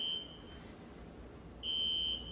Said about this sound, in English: Did you hear that beep?